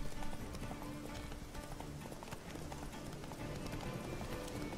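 Geralt's horse gallops across open country in the video game The Witcher 3: Wild Hunt, with a steady, fast clatter of hoofbeats running unbroken throughout at moderate loudness.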